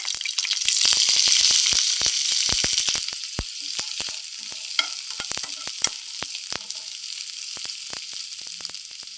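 Cumin, asafoetida and curry leaves hit hot oil with a loud close sizzle and a burst of sharp crackling pops that gradually thin out into scattered spits.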